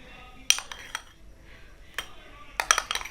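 A spoon stirring rice flour with another powder in a bowl, giving a few sharp clinks against the dish amid soft scraping, with a cluster of quicker taps near the end.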